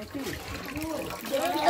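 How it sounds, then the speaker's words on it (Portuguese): Water splashes and sloshes as it is worked into cassava dough for making starch during a rural flour-making day in the Brazilian sertão, a wet churning under nearby speech. "E o Sérgio vai aqui misturar água pra a massa."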